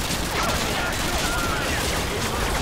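Call of Duty gameplay with dense, continuous machine gun fire, loud and sustained for the whole stretch, with rapid overlapping bursts.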